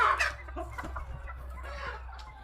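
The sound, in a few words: chickens clucking in a coop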